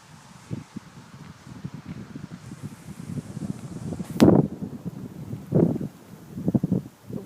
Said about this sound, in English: The wind speeds are, as the weatherman says, supposedly around 15 miles an hour right now.